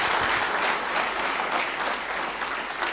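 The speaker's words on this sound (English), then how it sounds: "Let's give them a bigger round of applause." Sustained applause from an audience, steady and full throughout, with dense clapping filling the room and no voices standing out.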